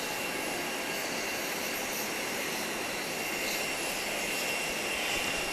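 Steady broadband roar of a United airliner's jet engines close by at an airport, loud and continuous throughout with no voices.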